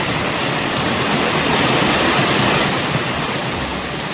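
The Banganga stream at Vaishno Devi near Katra rushes with clean water, a loud, steady, broadband roar of flowing water close by and continuous throughout, with no voices over it.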